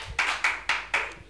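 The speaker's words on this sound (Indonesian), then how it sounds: "Tepuk tangan loh, tim kreatif orang yang tepuk tangan" A creative team claps in a podcast studio: four distinct, evenly spaced hand claps, close and fairly loud, with no talking over them.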